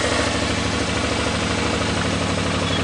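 A 2007 Suzuki DL650 V-Strom motorcycle engine idles close by with a steady, even low throb and a continuous mechanical rumble, with no talking.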